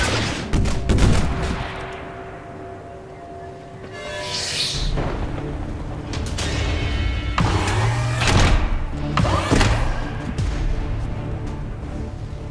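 Gunfire in XCOM 2: several sharp shots and bursts crack through a tactical battle, separated by pauses, with layered impacts and mechanical game sounds, loud and close without speech.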